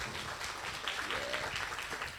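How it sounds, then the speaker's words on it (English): An audience applauds at a talk on healthy diets and food costs, a dense, steady wash of many hands clapping at moderate distance for a couple of seconds. "Clap."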